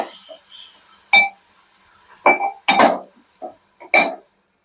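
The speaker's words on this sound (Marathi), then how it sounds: "तो चांगला ढवळून घ्यायचा" A spoon clinks against a pot while masala is stirred into Malvani-style mango raita, giving several sharp, separate metallic taps with short pauses between them, close and fairly loud, with no talking.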